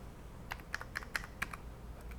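A few crisp key taps and mouse clicks, a Shift key pressed and clicked while drawing a polygon in SketchUp, sound close and distinct over a low steady room hum.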